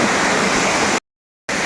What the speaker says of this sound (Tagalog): Dito kayo sa falls.